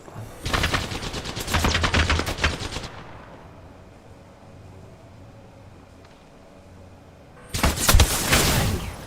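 Rapid automatic gunfire from the video game Apex Legends rattles loudly in a sustained burst, falls into a quieter stretch, then returns in a second heavy burst near the end.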